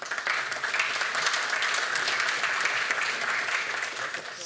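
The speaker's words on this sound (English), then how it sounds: "So applause for him, please." A conference audience at a vehicle-to-grid event in Aachen applauds steadily, a dense even wash of clapping that holds at full strength for several seconds.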